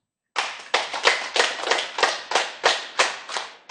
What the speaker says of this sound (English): there's another process where we clap 9 times